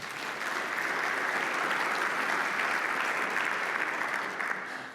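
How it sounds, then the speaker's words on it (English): Sustained audience applause at a RESO 2024 Fall real estate standards conference, a dense steady wash of many hands clapping for about five seconds, loud and alone, tapering slightly at the end. "Can you please give them a round of applause?"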